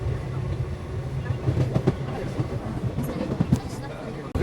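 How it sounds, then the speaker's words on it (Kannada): A train at Channapatna railway station gives a steady low rumble with rhythmic clacking wheel thuds, heard fairly close. A faint murmur of voices sits in the background. "ಚನ್ನಪಟ್ಟಣ ರೈಲ್ವೆ ಸ್ಟೇಷನ್ ಒಳಗೆ ಅದೇವಿ"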